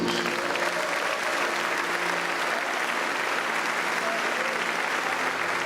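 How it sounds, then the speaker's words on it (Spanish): A church congregation breaks into sustained applause during a worship service, a continuous, loud wash of many hands clapping that fills the whole stretch without a break. "Un aplauso a Jesús."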